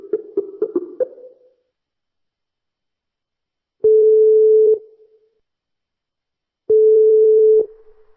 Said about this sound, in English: Let me dial the cell number she's replied with.